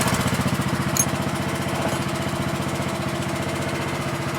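A Craftsman LT1000 lawn tractor with a 16 hp engine idles slightly high, a steady rapid chugging thrum heard up close, alone without talk.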